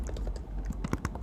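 A short run of close, quick keystrokes on a computer keyboard, clicking in a brisk, slightly uneven rhythm with no voices.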